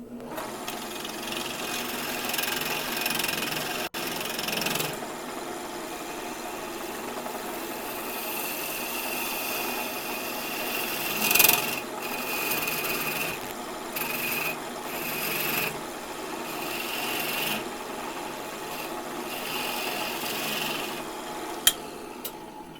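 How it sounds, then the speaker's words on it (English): A spindle gouge cuts into wood spinning on a lathe, giving a steady, close hissing rasp that runs without break, with brief dips in pressure and a couple of sharp ticks near the end. "I'm going to hit that with the spindle gouge so I can get a lot closer in there"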